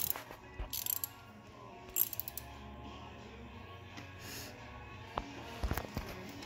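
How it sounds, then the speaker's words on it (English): Ratchet clicks while the transmission drain plugs are tightened on a 1940 Allis Chalmers B tractor, coming in short separate bursts of quick clicking over a low, quiet background. "so we're going to tighten up these two bungs"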